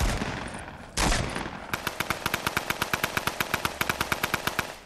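A new SMG fires in Fortnite, starting with a single sharp blast and then a rapid, evenly spaced burst of about twenty crisp shots, loud and close.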